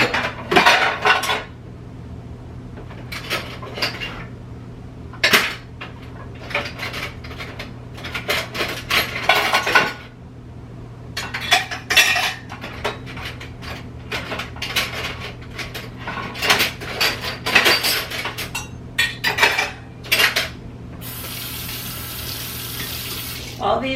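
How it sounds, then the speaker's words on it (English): Clean dishes and cutlery clink and clatter in repeated bursts as someone rummages through them looking for a spoon, with a steady low hum underneath and a brief hiss of water near the end. "I was looking for a spoon in my clean dishes."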